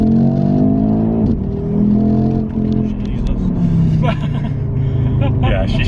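An Audi RS3's five-cylinder turbo engine pulls hard, its rising drone breaking off at a gear shift and climbing again, loud and close from inside the car as people talk over it.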